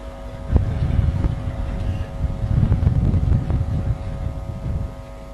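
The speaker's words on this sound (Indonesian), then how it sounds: "Ini angin ini kencang juga ya." Strong wind buffeting an outdoor microphone during a sermon, heard as a loud, uneven low rumble that surges and fades in gusts, with faint knocks and a steady background hum.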